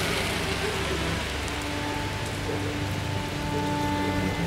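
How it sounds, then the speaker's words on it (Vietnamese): Drizzling rain in Da Lat, a steady soft patter of drops on surfaces with a constant hiss, unbroken and fairly close, with faint tonal hum in the background and no voices. "Trong cơn mưa phùn, lúc to lúc nhỏ thường xuất hiện lên những cành cây."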